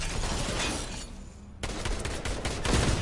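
Rapid gunfire in the Fortnite video game, dense bursts of overlapping shots that continue almost without pause, with a brief quieter gap midway before the firing picks up again, loud and close.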